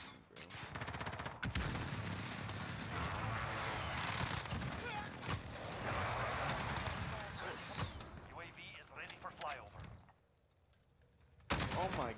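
SCAR-H rifle fire in a Call of Duty match, loud overlapping bursts with voices talking over the shooting, a brief lull near the end, then one last sharp volley.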